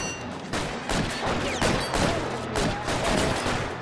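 Gunfire in a police shootout in the L.A. Noire video game, loud repeated shots cracking in quick succession, close and sustained throughout, with no talk over it.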